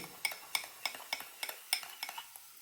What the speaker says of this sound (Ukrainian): Все, коли утворюється така хімія, ложечкою гарно перемішую